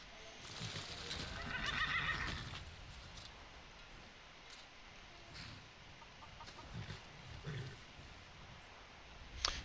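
A horse in the video game Skyrim whinnies in a short burst early on, followed by scattered hoof clip-clops and faint clucking fowl, all fairly quiet, with no speech.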